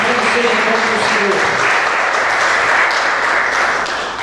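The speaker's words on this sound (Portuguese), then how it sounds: "Dá uma salva de palmas para o Senhor Jesus. Bem forte." A church congregation breaks into loud, continuous applause, a thick wash of clapping that holds steady and begins to fade at the very end, with faint voices beneath it.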